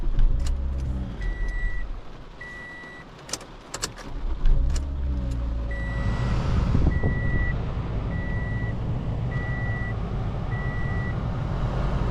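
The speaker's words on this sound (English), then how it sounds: "we'll just try to fire up this vehicle and make sure we're good" A car with a newly installed battery: keys jingle, the engine cranks and catches, then settles into a low steady idle while a regular electronic chime beeps over it.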